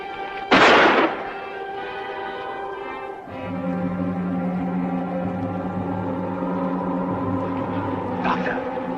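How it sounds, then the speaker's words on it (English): A single sharp gunshot rings out high in the mountains, a brief loud crack near the start that fades quickly, followed by a steady low mechanical drone. "I hear a gunshot."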